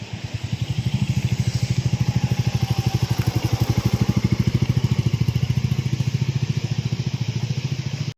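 A motorcycle engine thuds along in a fast, even rhythm as the rider pulls away near Polo Forest, steady and fairly close for the whole stretch with no voices.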